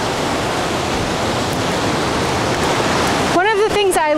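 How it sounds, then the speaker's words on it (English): Rushing water from a waterfall in Lassen Volcanic National Park roars as a steady, loud broadband hiss, and a voice speaks briefly over it at the end. "I can hear the rush of water behind me"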